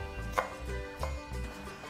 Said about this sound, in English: just slice it and then it's gonna be diced nicely